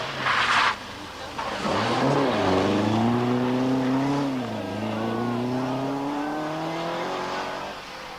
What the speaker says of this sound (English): The Team PR Riley-backed Vauxhall has been under considerable pressure from McRae's Opel, which is now closing fast.